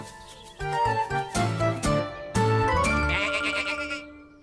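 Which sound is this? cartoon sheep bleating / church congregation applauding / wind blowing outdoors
cartoon sheep bleating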